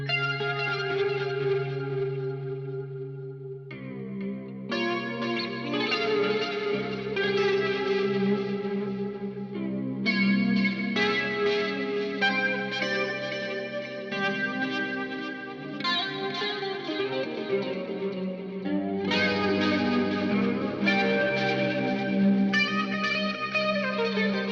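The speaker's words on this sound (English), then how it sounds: "in the pedal it is written as chorus, so I will call it a chorus" A Suhr Modern Satin electric guitar strums sustained chords through a chorus pedal, producing a wide, shimmering, reverberant pad that rings continuously with new chords struck every few seconds, no voices present.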